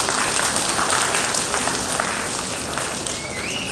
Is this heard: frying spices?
no